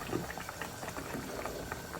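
Callos stew with tomato puree boiling in a pot makes soft, steady bubbling and popping, faint and close, with no voices.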